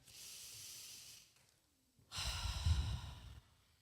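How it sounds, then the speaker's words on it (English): A group draws a slow, audible breath together, a hissing inhale followed by a longer, louder exhale like a sigh, heard fairly close in a quiet room. "everybody take a deep breath"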